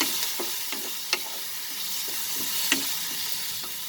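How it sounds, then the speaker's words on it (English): Prawns and spices being sautéed together in a pan for a prawn and potato curry, with a soft steady sizzle and a few sharp scraping stir clicks from a utensil, no talking. "And saute this together."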